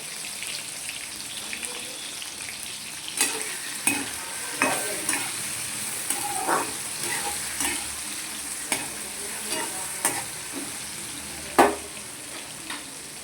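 Brinjal being stirred with turmeric in a frying pan, a steady soft sizzle with scattered scraping knocks of the spoon against the pan, close and fairly quiet, with no talking.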